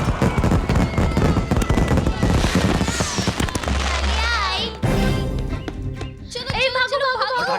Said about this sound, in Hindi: पटाखे इस तरह से जलाते हैं?